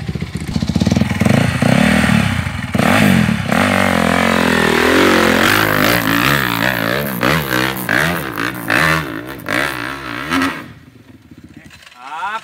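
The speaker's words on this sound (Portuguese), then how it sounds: "Ah, Pedrinho, seu motor" A motorcycle engine on a trail ride roars loud and close almost throughout, revving up and down with a steady growl and some clatter, while voices talk over it before it drops away near the end.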